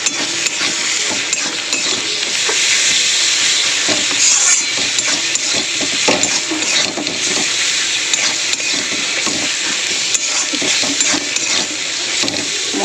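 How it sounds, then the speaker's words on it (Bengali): Chilli powder, turmeric and ginger-garlic paste frying in oil as they are stirred, a dense continuous hiss and sizzle with faint scraping from the spoon, loud and steady, no talking. "দেবো লঙ্কার গুঁড়ো, দেবো একটু হলুদ গুঁড়ো, দেবো আদা রসুন পেস্ট। ভালো করে একটু নাড়িয়ে দেবো।"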